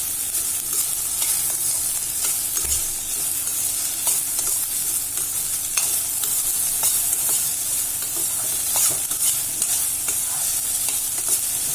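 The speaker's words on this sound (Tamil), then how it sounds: "இதில் வெண்டிக்காய் நல்லா வதக்க வச்சுக்கணும்" Okra is stir-fried in oil in a pan, with a loud continuous sizzle and hiss throughout and a steady patter of light spatula scrapes and ticks.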